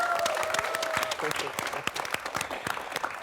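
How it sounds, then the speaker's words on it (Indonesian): Studio audience applause on an Indonesian comedy talk show, a steady dense wash of clapping with some voices and a brief sung or whistled tone near the start, fairly close and filling the room. "tepuk tangan sekali lagi please"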